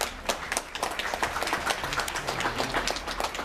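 Audience applauding at an exhibition opening, a dense, continuous burst of clapping from many hands, moderately close and steady throughout.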